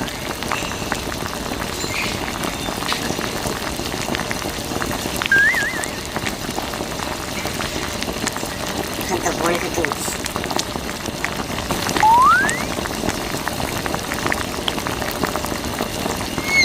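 Water sprays over a toy mini tractor during washing, a steady close hiss like heavy rain or fizzing that runs unbroken throughout, with a couple of brief faint vocal squeaks.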